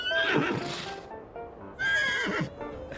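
Horses neigh and whinny twice in The Sims, each call a loud, wavering cry lasting about a second with a gap between, over faint background clatter.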